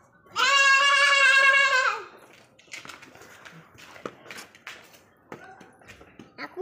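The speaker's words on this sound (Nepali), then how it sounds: "ल बोका कराउनु थाल्यो" A billy goat gives one loud, long wavering bleat nearby, followed by quieter clattering and scattered background noises.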